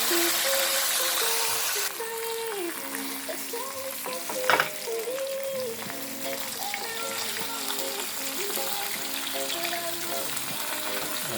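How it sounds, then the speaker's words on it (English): Jamaican escovitch fish frying in hot oil, a close, continuous crackling sizzle with bubbling pops, one sharper clatter midway, no talking. "I'm doing some Jamaican style Escovitch fried fish here today."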